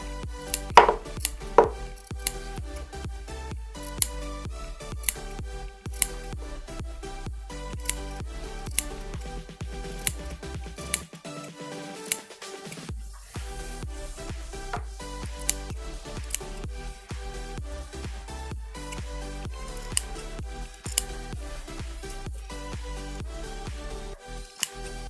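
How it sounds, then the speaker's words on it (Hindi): Scissors make many small cuts into the neck fabric of a suit, heard as crisp snips repeating in a steady rhythm close by. The snipping stops briefly partway through. "अब इसको छोटे छोटे इसमें कट लगा दें, जिससे कि पलटने में आसानी होगी।"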